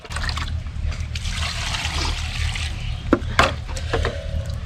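Water is poured from a container onto spinach leaves in a cooking pot, giving a steady trickle with a low background rumble and a few knocks near the end.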